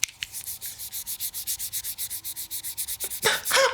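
Fingers rub back and forth across the soft face of a fidget cube, making a steady, rhythmic soft scratching about six strokes per second, close and fairly quiet, ending in a couple of louder brushing scrapes.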